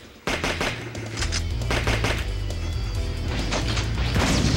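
Rapid gunfire bursts from the Medabots Infinity video game, loud and dense, starting abruptly and then rattling on almost without pause alongside sharp impact cracks.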